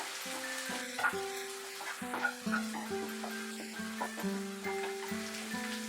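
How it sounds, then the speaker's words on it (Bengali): Ginger garlic paste fries in a pan over medium heat for pav bhaji, a soft steady sizzle running beneath a louder melodic music track with plucked, stepping notes. "আদা রসুনটা দেওয়ার পরেও আরো মিনিট 2 আমি এটাকে ফ্রাই করব"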